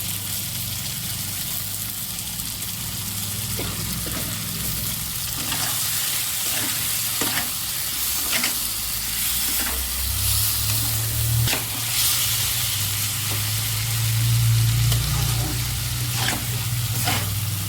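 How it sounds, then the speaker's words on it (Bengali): Ginger-garlic paste with tomato and onion paste frying in a pan, a steady close sizzle with occasional scraping and stirring, no voices. "এবারে আমি আদা রসুন পেস্ট দিলাম, একটু ভাজা ভাজা করব।"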